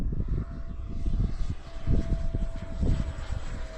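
A Freewing 70mm F-16 RC jet flying, its ducted-fan whine held at a steady pitch with a pulsing, moderately distant drone as it passes overhead in light wind.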